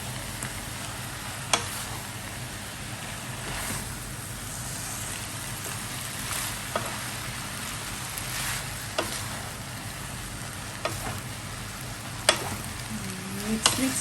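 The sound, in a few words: stirring and frying pad thai noodles in a pan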